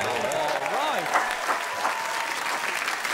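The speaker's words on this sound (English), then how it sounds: "a special round of applause" A studio audience at a comedy panel show applauds steadily throughout, a dense wash of clapping with a voice speaking over it at the start.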